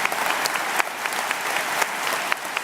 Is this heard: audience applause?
yes